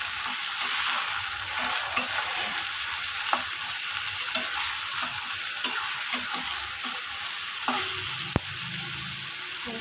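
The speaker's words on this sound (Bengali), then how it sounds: "সবজিটা আগে ভালোভাবে ভাজা হয়ে যায়" Vegetables and long-cut potato strips fry in a pan, giving a steady close sizzle punctuated by regular sharp ladle taps and stirring clicks.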